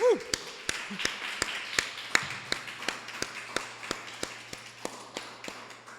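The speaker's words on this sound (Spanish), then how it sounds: "Denle un aplauso al Señor, ¿les parece?" Congregation at a Spanish-language church sermon clapping in a steady, evenly paced rhythm, sharp distinct claps about three per second, fairly close, with a brief voice at the start and a low hum underneath.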